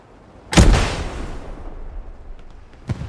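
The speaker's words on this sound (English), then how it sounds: "Trying to hit with a rocket." A rocket fired at an enemy outpost during a night match of a shooting game, one loud deep blast with a rumbling tail, followed by a faint distant shot near the end.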